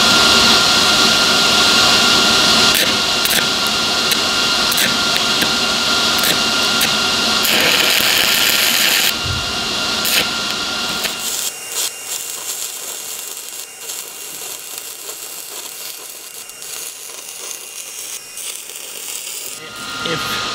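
A Miller Multimatic multiprocess welder stick welding with a 6010 rod gives a loud, harsh crackling arc that sputters for about nine seconds, then cuts out, leaving a quieter buzzing hum for the rest.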